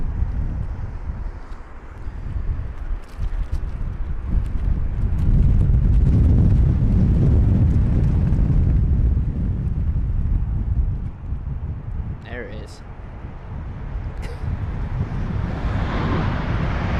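Wind buffets a microphone outdoors at Heathrow airport, a loud continuous rumble that swells and eases, with a faint distant aircraft tone late on and no talking.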